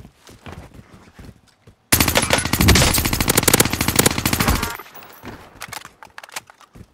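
Warzone gunfire as players shoot from a high peak: scattered sharp shots, then a long loud burst of rapid automatic fire lasting nearly three seconds, followed by more scattered cracks and rattles.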